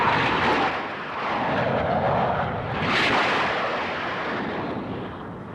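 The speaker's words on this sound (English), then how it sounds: "Seconds after the first news of the attack is received, NATO jets are airborne." A NATO military jet roars loudly on takeoff, a broad, rushing engine blast that swells and fades and swells again across the whole stretch, with no talk over it.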